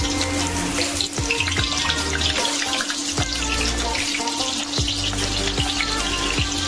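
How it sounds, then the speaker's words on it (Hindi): Cauliflower pieces frying in hot refined oil in a kadai over medium heat, giving a steady, close, hissing sizzle with faint crackles throughout. "पहले मैं गोभी को तल लूँगी। थोड़े थोड़े गोभी डालेंगे"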